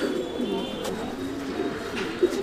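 Fancy pigeons coo softly at a farm loft, low repeated throaty calls close by under a quiet ambient background, with no one speaking.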